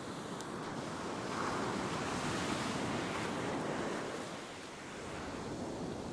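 Ocean surf rolls and breaks along a beach at the edge of the water where someone is fishing, a steady roar of waves with some wind buffeting the microphone and a slight dip in loudness near the end.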